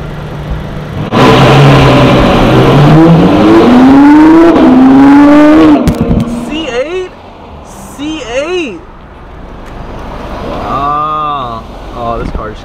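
Chevrolet Corvette C8 sports car on a Beverly Hills street, its engine revving hard and climbing through a long loud acceleration pull, then fading, followed by shorter revs at a distance, with excited voices talking over it.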